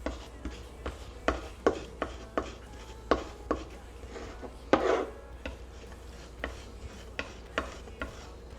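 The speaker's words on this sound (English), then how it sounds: "I'm just like mashing up some garlic." Garlic being mashed and chopped on a cutting board, with a steady series of sharp thuds and scraping strokes close by, ginger and soy nearby in a home kitchen.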